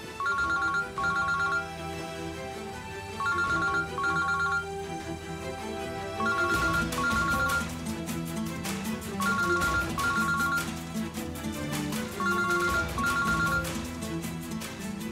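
A mobile phone ringtone plays loudly and alone, a repeating electronic melody in steady phrases that grows fuller partway through as more layers join the tune.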